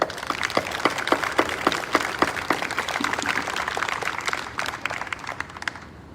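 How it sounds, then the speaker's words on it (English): Applause from an audience at a senior design awards ceremony, a steady patter of individual claps spread through the room for several seconds, moderately loud and fading slightly toward the end. "Let's give them all a round of applause"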